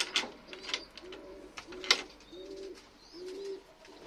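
Pigeons being fed, with new chicks, give a series of soft, low coos in short repeated phrases, close by, mixed with a few light clicks and rustles and no voices.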